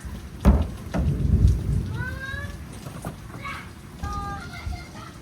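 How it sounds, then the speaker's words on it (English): Thunder rumbling during a rainstorm, a couple of heavy low rolls early on over steady rain hiss, with faint voices and bird-like chirps later in the distance. "Pretty big thunder over there."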